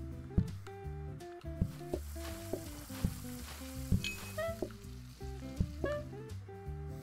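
Burger patties sizzle on the grill in the cooking game PlateUp, a steady frying hiss beneath bouncy game music, punctuated by small clinks.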